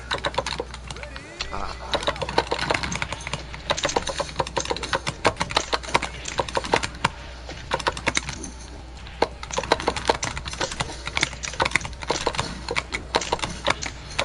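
Crown 202 arcade controller buttons give rapid, irregular clicks much like keyboard keys, tapped steadily for the whole stretch over a busy background murmur.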